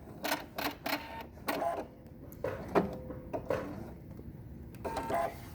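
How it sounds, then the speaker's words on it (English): A Husqvarna Viking Epic 95Q sewing machine runs in short bursts of rapid stitching, close and fairly loud, followed by small mechanical clicks as the thread is cut, with no talk. "Get to the end and cut my thread."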